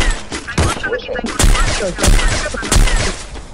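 Gunfire in the mobile battle royale game Free Fire played on an iPhone 6s during a tournament match: repeated loud bursts of shots with sharp impacts, dense and close, mixed with game effects and a voice talking over it.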